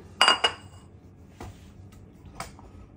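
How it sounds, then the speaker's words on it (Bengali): A bowl is picked up and set down in a home kitchen while java plum mash is being prepared, giving a few sharp ceramic clinks: two close together, then two lighter knocks spaced apart, over a quiet room. "এখন আমি এখানে এই বাটিটা নিয়ে নিলাম"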